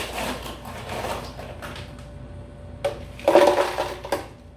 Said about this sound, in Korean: 재료를 다 넣은 다음에 크러쉬드 아이스 한 스쿱을 넣어줍니다